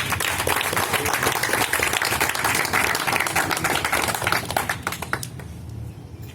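Crowd applauding at an Independence Day celebration, dense sustained clapping that holds steady and tapers slightly toward the end.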